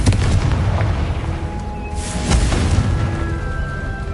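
A fiery blasting spell fired in a Harry Potter-style video game sets off a loud, sustained burst of booming, rumbling explosion with crackling debris lasting several seconds, heard alone without talk.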